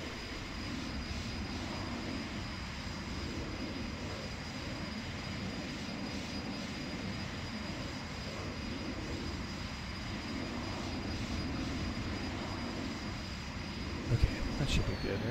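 Alpha Jet engine in the X-Plane 11 flight simulator drones steadily on approach to landing, a continuous low turbine rumble at constant loudness with a brief click near the end.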